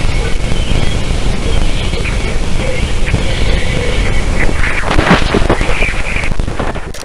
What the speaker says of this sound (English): the weird radio emissions the Galileo spacecraft picked up from Jupiter's largest moon